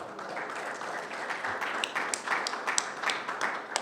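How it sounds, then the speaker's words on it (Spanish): Steady applause from an audience at a UACM session, a dense patter of clapping at moderate volume with a few crisper hand claps near the end, no talking. "Un fuerte aplauso para Gabriel Sánchez Román."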